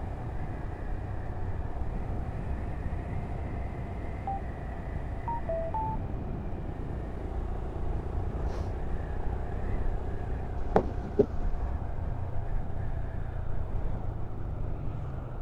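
A Royal Enfield Scram motorcycle rides along a road, giving a constant low engine drone mixed with wind rush that stays steady and fairly loud throughout, with a couple of brief clicks near the end.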